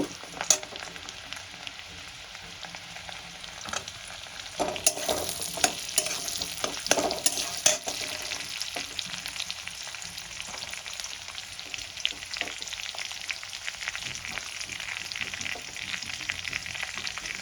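Chopped garlic frying in oil, a continuous close crackling sizzle dotted with tiny pops, joined by several bursts of stirring and scraping in the middle, with no voices.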